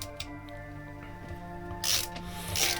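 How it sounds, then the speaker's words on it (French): A high-end Chinese screwdriver's ratchet gives faint, close clicks. A couple of brief, brighter bursts of mechanical noise come near the end, and no one speaks. "Vous voyez que le cliquet est pas trop difficile à activer."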